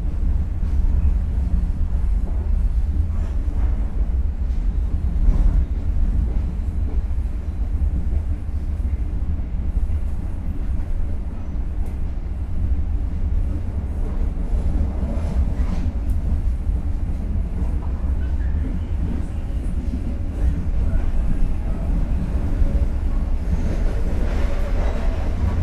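The Pariaman Express passenger train, hauled by a BB 303 locomotive, rumbles steadily along the rails after departing a station, a continuous low roar with faint rattling and clatter throughout, no voices.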